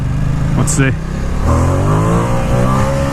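A Ducati XDiavel S motorcycle revs hard as it's lifted into a wheelie at a stop sign, the engine note rising and climbing in pitch, loud and close, with a voice speaking over it.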